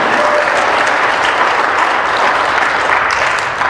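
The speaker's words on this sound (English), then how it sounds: "So we're going to applaud." A large audience at a talk claps in thanks, a loud, dense and unbroken wash of applause that holds steady throughout.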